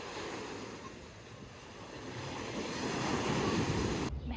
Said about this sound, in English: The water's really warm, but the waves are really strong.